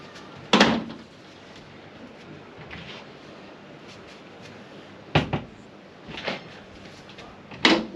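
Bifold cabin doors on an Offshore Boats NZ 750HT enclosed boat being opened, giving a few sharp, close knocks and clunks spread apart, with a quiet background between them and no talking.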